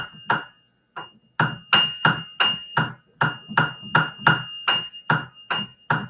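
A series of sharp metallic strikes on a piano string, each leaving a bright sustained ringing tone, repeated at a steady pace.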